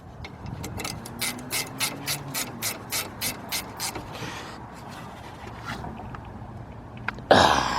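A ratchet loosens the top brake caliper bolt on a 2011 Nissan Maxima's rear brakes, giving a steady run of about a dozen close, crisp clicks, then a short pause and a louder clatter near the end.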